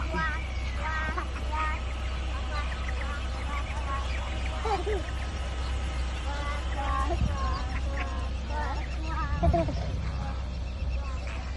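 Ducks quack repeatedly and close by at Al Qudra lake, a busy overlapping chorus over a steady low hum, with people talking throughout.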